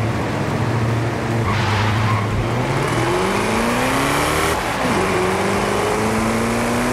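Car in Forza Horizon 5 launching with launch control from a standstill, engine revving hard and climbing through several gear changes, loud and continuous with a brief tire chirp.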